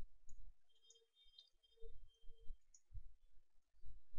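Sharp computer mouse clicks come in an irregular series while working in CATIA design software, close and fairly quiet, with faint background hum and no voices.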